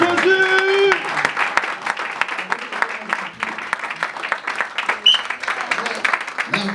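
A church congregation applauding at a prophetic New Year's Eve night service, a sustained dense patter of many hands clapping near and loud, with a voice heard over the start of it.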